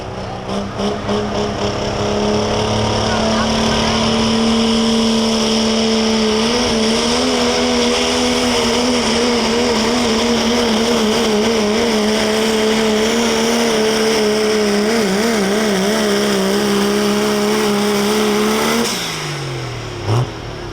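A 3.0 diesel pulling truck at a Pro Pulling League event in Tampico, Indiana runs loud and steady for a long stretch of the pull, its droning engine note wavering slightly before dropping away sharply near the end.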